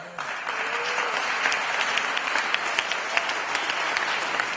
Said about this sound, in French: on applaudit Dieu